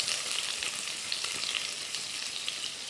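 Spices stir-fried in a little leftover hot oil after frying eggs, giving a steady, close, bright sizzle and crackle with light stirring, and no one talking.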